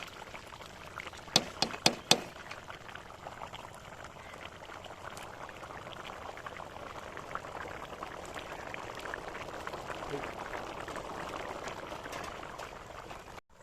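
Soft, continuous bubbling and gentle burbling of water simmering off in a pot of chana pulao, lid open, with a few sharp clinks near the start; quiet and close.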